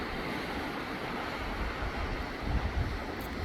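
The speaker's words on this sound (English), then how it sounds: "It's definitely a little rapid through here." Broad, steady rushing water from rapids on the Klamath River at the Iron Gate Narrows below Fall Creek, a constant noisy roar with some wind buffeting on the microphone, no voices.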